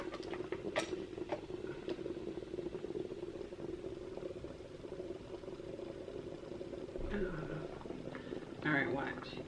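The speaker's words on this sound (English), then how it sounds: "It's going to start steaming." Water bubbles and simmers at a steady low level in a steamer, with a few faint clicks and a brief voice near the end.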